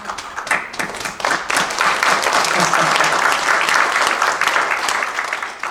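Audience breaks into applause during a keynote speech, the clapping rising from scattered claps into a loud, sustained round that begins to fade near the end.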